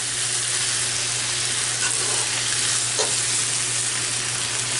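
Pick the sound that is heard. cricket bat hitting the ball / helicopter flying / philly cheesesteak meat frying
philly cheesesteak meat frying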